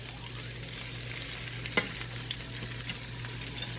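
Turkey burgers frying in a pan give a steady, close sizzle and crackle. A low constant hum sits underneath, a single sharper tap comes near the middle, and no one speaks.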